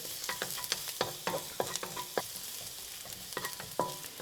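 Chopped garlic and thinly sliced onions frying in a pan, a light sizzle broken by frequent rhythmic stirring scrapes and taps from a utensil, close by and without speech.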